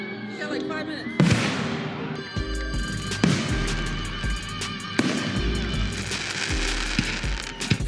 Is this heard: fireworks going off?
yes